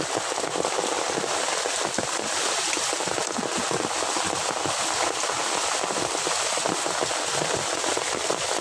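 Steady rain pattering on a beach during a crabbing outing, a dense continuous hiss of drops with scattered sharper taps, heard close and alone without voices.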